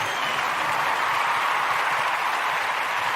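Sustained audience applause at an Ujima gathering, a thick, even roar of many hands clapping at once for the Ujima babies, with no pause from start to finish.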